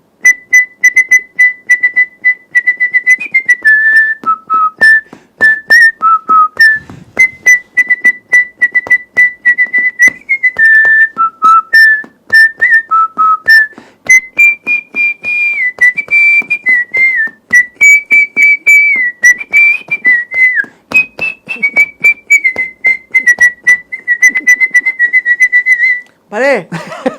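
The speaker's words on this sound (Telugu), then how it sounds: "విజిల్తో నాన్ స్టాప్గా 15 minutes విజిల్ పాడగలను." A man whistles a Telugu song, a loud, clear melody held close for nearly half a minute, broken by brief breaths between phrases.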